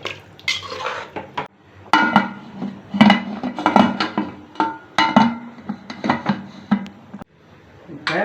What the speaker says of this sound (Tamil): இப்போ மூடி போட்டு வெயிட் போட்டோம்.